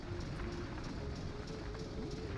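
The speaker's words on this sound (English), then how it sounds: "Train is here." A train arrives in the video game Banjo-Tooie, a faint continuous rumbling chug with light rhythmic clatter, steady and alone without talk.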